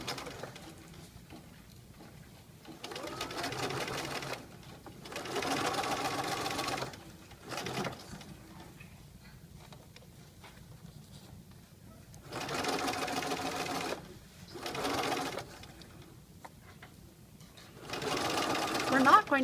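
A sewing machine stitches along the edge of the tape on a centered zipper, running in several separate bursts of steady mechanical whirring, with quiet pauses in between and a voice talking under it.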